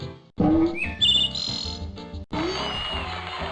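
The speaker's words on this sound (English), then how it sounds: "It's the lovely lilting sound of the wood thrush." Wood thrush song played as a quiz sound in the Magic School Bus animal video game, a series of clear, lilting whistled phrases alone with brief gaps, fairly close and moderately loud.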